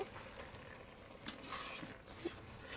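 A lid set over a cooking pot, one sharp metallic clink followed by softer knocks above a faint low sizzle, close and fairly quiet, with no talk.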